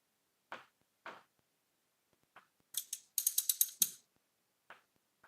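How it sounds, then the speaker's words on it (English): Ratchet loosening the supercharger belt tensioner on a 2014 Audi Q7 3.0T: a few isolated clicks, then a quick burst of rapid, loud pawl clicks near the mic, followed by a final click or two. "So next we're going to take this tensioner for the supercharger loose."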